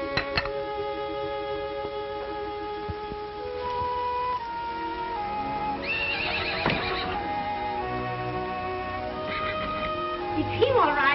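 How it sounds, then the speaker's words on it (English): A horse whinnies loudly with a rising, quavering neigh, then a second whinny follows, over steady background music and faint hoofbeats. "It's him, all right. It's your horse."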